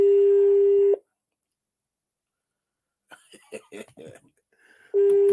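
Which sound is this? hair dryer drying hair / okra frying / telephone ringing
telephone ringing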